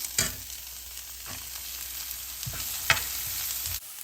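Chopped carrots, beans and green chili sizzle in a pan for fried rice, with steady frying hiss broken by a few sharp stirring scrapes of a utensil against the pan.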